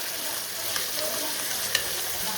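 Ingredients sizzling in a hot pan, a dense continuous crackle close up with a couple of faint spoon clinks, no voices present.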